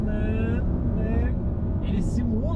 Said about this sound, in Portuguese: o barulho do motor já tá... Aí, ó. É outro barulho